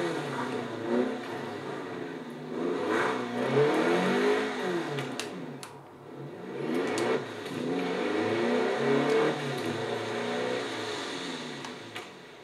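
A 2014 Volkswagen Golf R engine in Forza Horizon 4 while parking, revving up and down in short bursts with shifting pitch, fairly close, with brief dips between rises.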